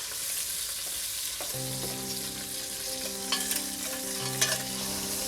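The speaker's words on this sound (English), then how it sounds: "This sizzle getting me hungry." Meat sizzles steadily in a hot pan, a constant hiss with occasional crackles and a faint tonal hum underneath.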